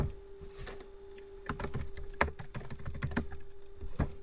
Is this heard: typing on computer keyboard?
yes